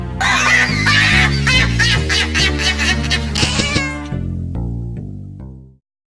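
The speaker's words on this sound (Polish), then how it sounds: "Jaki śliczny kotek. Kici kici kotku." A cat meows repeatedly in loud, drawn-out cries close by, ending in a softer, trailing meow before silence.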